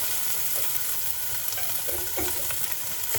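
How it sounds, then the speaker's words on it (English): Chopped onions sizzling in smoking-hot oil for a creamy carrot soup, a steady, loud frying hiss with occasional crackles and stirring scrapes. "Gonna put the onions in."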